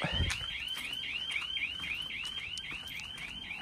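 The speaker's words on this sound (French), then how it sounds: "Donc forcément, l'alarme réagit" A Carprotec alarm on a leisure vehicle, set off by touching the bike rack, wails in a fast repeating up-sweeping chirp pattern, loud and steady throughout, with a brief low thump at the start.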